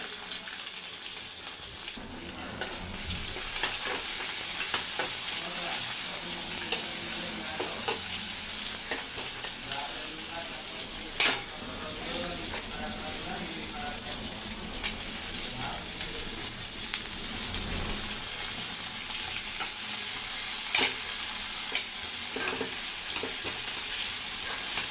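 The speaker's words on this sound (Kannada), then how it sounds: "ಆಮೇಲೆ ಉಳ್ಳಾಗಡ್ಡಿ ಸಣ್ಣಗೆ ಉದ್ದುದ್ದು ಹೆಚ್ಕೊಂಡೇನೆ, ಅವನ್ನ ಹಾಕಾಕ್ತೇನೆ." Sliced onions and curry leaves sizzle and fry steadily in a home kitchen pan, a continuous close hiss with occasional stirring clinks and faint tap water in the background.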